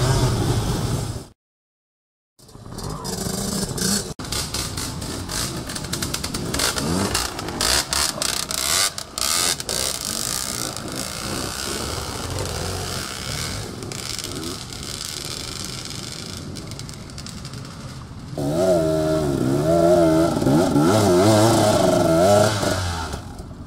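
Off-road motorcycles are ridden through the terrain at a trail-riding camp, engines revving and rasping on and off, with a short silent gap near the start and a louder, higher-revving pass near the end.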